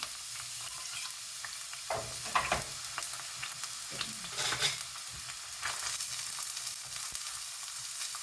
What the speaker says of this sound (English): So here I am adding my onion.